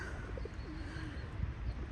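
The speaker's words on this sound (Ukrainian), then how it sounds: "Скільки тут голубів" Soft pigeon coos sound faintly against a low outdoor rumble near a market in Kryvyi Rih, Ukraine, with a few short bird calls scattered through.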